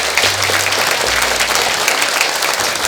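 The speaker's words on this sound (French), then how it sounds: "que je vous demande d'applaudir, s'il vous plaît" An audience at a Vierzon town working-commission presentation applauds, a dense, loud, sustained wash of clapping filling the room from start to finish.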